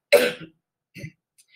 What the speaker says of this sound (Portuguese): desculpa, mas é que está um pigarrinho chatinho aqui